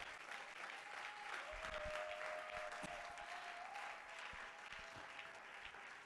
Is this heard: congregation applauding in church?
yes